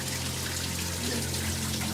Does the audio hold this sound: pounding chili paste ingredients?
no